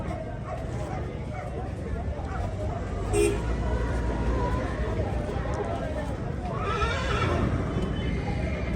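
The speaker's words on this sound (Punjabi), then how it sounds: "ਆ ਬਸ਼ੀਰਾ ਦੇਖੋ 2 ਸਾਲ ਦਾ ਜੀ ਅਲੀਆ ਘੋੜੇ ਦਾ ਮੱਥੇ ਫੁੱਲ ਤਿੰਨ ਪੈਰ ਚਿੱਟੇ" A two-year-old Marwari or Nukra horse, white-blazed with three white feet, whinnies and shifts about outdoors amid steady crowd babble, with a brief louder call partway through and faint hoof clops in the background.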